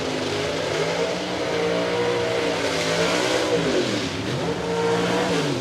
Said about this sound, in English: The burnouts are complete.